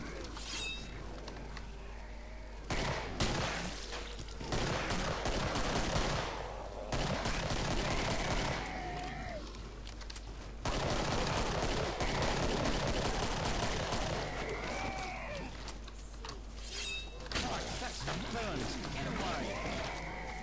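Pistol gunfire rings out in the video game Killing Floor: a steady stream of rapid shots and impacts at moderate loudness, while a player talks over much of it.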